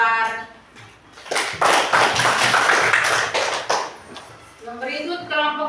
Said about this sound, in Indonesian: Kita berikan aplaus untuk kelompok mawar.